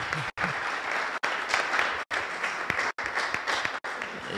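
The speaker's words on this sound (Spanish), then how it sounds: "para el cual te quiero pedir un aplauso" Conference audience applause at a network operators' meeting, a continuous wash of many hands clapping at moderate distance, broken by several brief cuts to silence.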